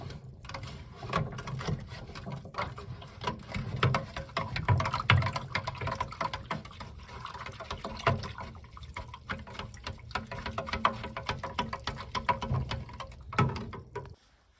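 Sugar syrup for feeding honeybees is stirred in a container, a steady liquid swishing and sloshing with rapid, close scraping strokes that continue throughout before fading at the end.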